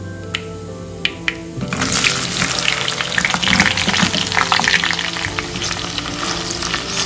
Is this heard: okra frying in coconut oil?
yes